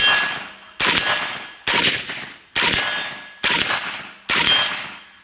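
Gunfire from a Zastava M90 rifle outdoors, six sharp, loud single shots spaced roughly evenly about a second apart, each with a ringing metallic tail that decays before the next.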